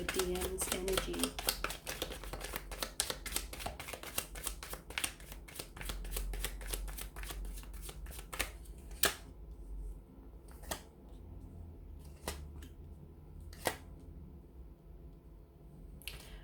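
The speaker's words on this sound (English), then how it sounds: "we'll go ahead and give the cards a shuffle" Rapid crisp riffling and slapping of tarot cards being shuffled, dense at first then thinning to a few sharp taps with pauses, close up.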